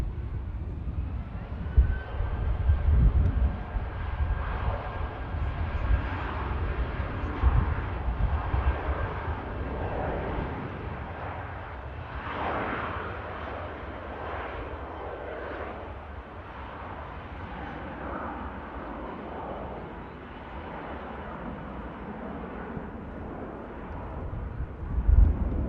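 A British Airways airliner passes near Manchester Airport, a steady broad engine roar with a faint whine, swelling mid-pass and slowly fading, with wind buffeting the microphone.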